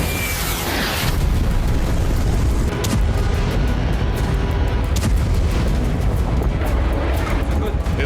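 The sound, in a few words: bombing explosions in Beirut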